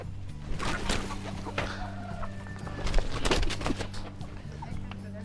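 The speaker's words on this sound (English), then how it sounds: "a black chicken, chongoro black, eyes are black, the feet are black, everything on this chicken is black" Free-range black chickens, black-eyed and black-footed, cluck in a yard, with several short calls scattered through a steady low hum while people talk nearby.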